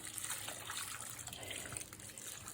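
Water poured from a can or jug onto freshly transplanted monstera (split-leaf philodendron) pots, a steady close splashing gush with no talk.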